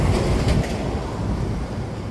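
A tanker truck rolls along the Hai Van mountain pass road, a heavy low rumble that is loud at first and eases slightly, with no voices.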